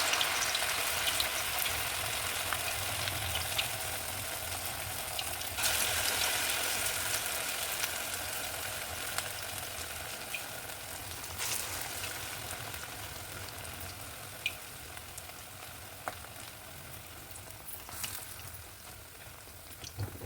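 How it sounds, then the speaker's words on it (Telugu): Ash gourd vadas frying in hot oil give a steady, even sizzle and bubbling that runs throughout, with occasional brief louder crackles and no talking. "అన్నీ ఇలాగే వేసుకొని ఫ్రై చేసుకోవాలండి"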